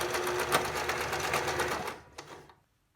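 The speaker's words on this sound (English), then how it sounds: "Then I want to continue off of the mask, sewing onto the webbing." A sewing machine runs in a fast, steady stitching burst while sewing a fabric face mask onto webbing, then slows and stops with a couple of final clicks, close and alone.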